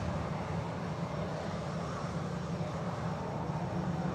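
Boeing 787 Dreamliner taxiing at Manchester Airport, its jet engines giving a steady, distant broadband roar that holds evenly throughout with no talk.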